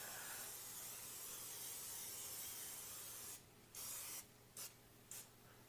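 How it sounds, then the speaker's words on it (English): Cooking spray is misted into a bundt pan, first as a long continuous faint hiss and then as several short separate bursts. "You want to pre-spray your bundt pan"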